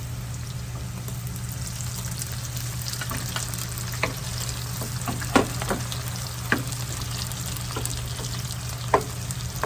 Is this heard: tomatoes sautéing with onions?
yes